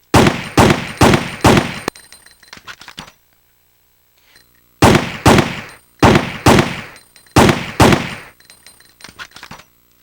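Handgun fire in Resident Evil 3: Nemesis, loud, sharp in-game shots in quick bursts of three or four, with a short pause and then two more rapid volleys, heard alone with no talk.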